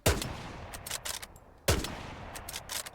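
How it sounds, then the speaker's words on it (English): Two sharp rifle shots in the Hell Let Loose video game, each a loud crack followed by a dull thud, spaced about a second and a half apart, with a reverberant tail and fainter distant gunfire in between. "there's an audible, like, almost hit marker-like sound thud after the bullet exits the barrel"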